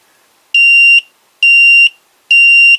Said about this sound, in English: once this gets to 0, it actually does beep